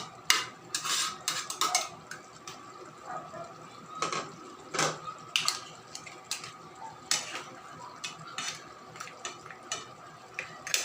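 A utensil clinks and scrapes steadily against a pan while buttered garlic shrimp and mussels are stirred, giving frequent sharp metallic taps in an uneven rhythm over a low cooking background.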